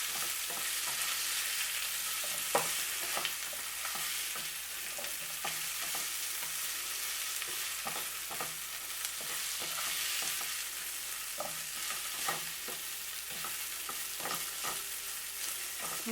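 Gold potatoes fry in a pan under a continuous bright sizzle as a utensil stirs them, making repeated soft scraping taps throughout with no talking.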